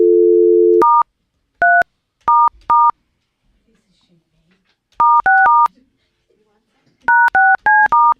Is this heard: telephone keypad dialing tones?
yes